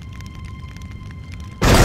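Molotov cocktail explosion in The Godfather video game: steady game ambience with a thin tone, then a sudden loud, broad blast that roars on to the end.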